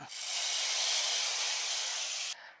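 A loud burst of hissing sizzle rises as hot tempering with a pinch of chili powder is poured into a quick curry. It holds steady for about two seconds and then cuts off abruptly.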